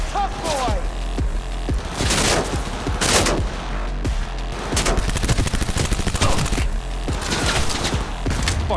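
Video game gunfire from Cyberpunk 2077 crackles in rapid bursts and volleys, loud and dense, with booming thuds mixed in and brief voices in between.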